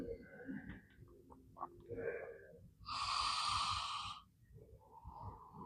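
Breathing during yoga child's pose: soft, close nasal inhales and exhales, with one long, louder, breathy exhale in the middle, heard alone and near.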